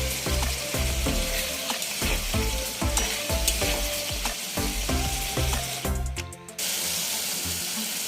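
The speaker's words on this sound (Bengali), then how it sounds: "একটু জল দিয়ে আমি মশলাটাকে ভালো করে কষিয়ে নিচ্ছি" Spice masala sizzling and frying with a splash of water in a pan for a fish curry, steady loud crackle with repeated scraping stir strokes and a brief watery splash near the end, no voices.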